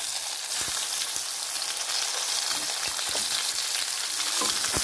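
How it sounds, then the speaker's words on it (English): Mackerel fish frying in hot oil, a steady loud sizzle with scattered crackles and pops, close up, with no talking. "So the oil is already hot. So now I put the fish."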